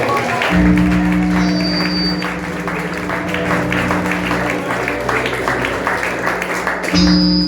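Church congregation clapping together during a Portuguese-language celebration service, a steady, dense wash of applause throughout, with sustained tones of music or an organ chord beneath and a brief lull near the end.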